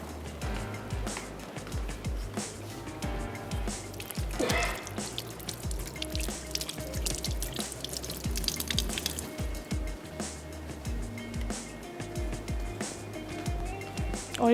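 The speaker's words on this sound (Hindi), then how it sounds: "यहाँ पर जो पानी है वो भी उबलना शुरू हो गया है" A pot of water starts to boil on a home kitchen stove while onions brown for Kashmiri goshtaba; steady bubbling and dripping sit under frequent low knocks and clinks of cookware, close and fairly busy.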